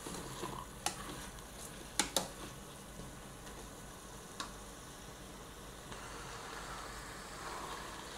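Kabsa spice paste frying in a pan while being stirred, a faint steady sizzle with a few sharp utensil clacks against the pan, fairly quiet and with no voices.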